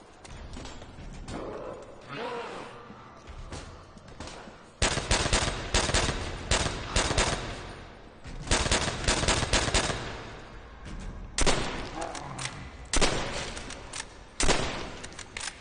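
Gunfire in the video game Call of Duty: World at War Zombies, loud repeated bursts of rapid shots separated by short pauses, with quieter game sounds in between.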